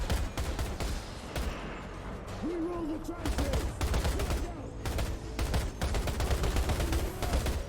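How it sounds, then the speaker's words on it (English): Light machine gun fired in Outriders, played as a Technomancer: dense, rapid, continuous bursts of shots keep going throughout, loud and steady, with a voice talking underneath. "So using my light machine gun sniper rifle."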